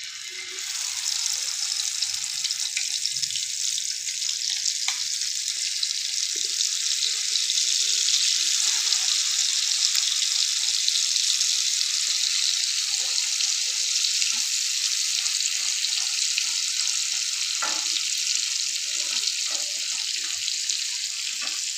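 Eggs frying in hot oil on a tawa for egg masala, a steady loud crackling sizzle with no talking, continuing evenly throughout with occasional small pops.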